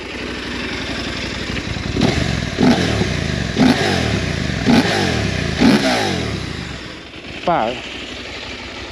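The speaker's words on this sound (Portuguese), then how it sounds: "Deixem-me só mostrar-vos aqui o barulho da moto já agora, o ronco dela." A Husqvarna Norden 901 motorcycle engine, warm, idles with a low rumble and is revved in five sharp blips at roughly one-second intervals, then one last rev after a brief pause; a short spoken word is heard.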